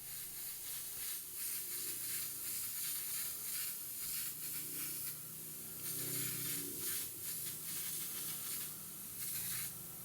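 A steady hiss of an airbrush spraying transparent orange paint runs throughout, pulsing slightly as the spray starts and eases, close and continuous.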